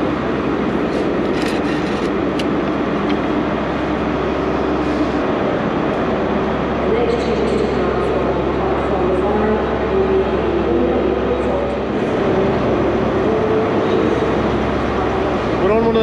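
A ScotRail intercity train at Glasgow Queen Street High Level, heard as a steady low rumble of station and train noise with faint squeals and clunks, continuous for the whole stretch.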